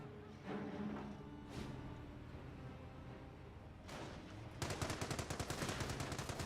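Machine gun volleys in the World War II strategy game Company of Heroes, scattered bursts and distant booms giving way to a rapid, steady rattle of automatic fire near the end, with no voices.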